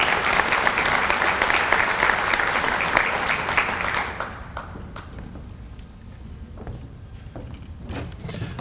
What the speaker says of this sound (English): let's give the News Journal a round of applause also